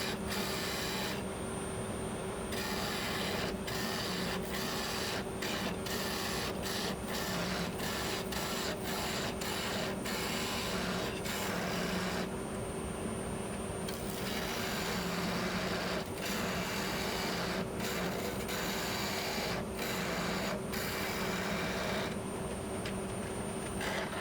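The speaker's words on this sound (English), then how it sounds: "I'm going to switch to a shear cut here because I've kind of got my diameter right here at the end" Wood spins on a lathe as a skew chisel makes a shear cut, giving a steady mechanical whir with a constant hum and repeated scraping bursts of the blade against the workpiece, with no talking.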